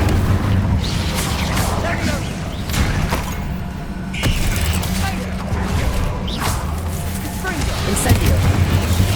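Incendio fire spell cast in Hogwarts Legacy during combat, a roaring burst of flame with whooshing bursts and booms, layered over game music and other spell effects.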